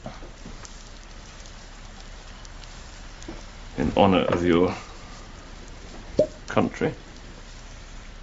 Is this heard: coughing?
no